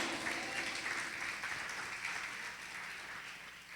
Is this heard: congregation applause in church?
yes